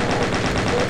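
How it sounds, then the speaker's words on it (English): Rapid gunfire from the Doom video game, a dense continuous burst of repeated shots lasting under a second, loud and close with no talking. "Bad shooting there, big waste of bullets."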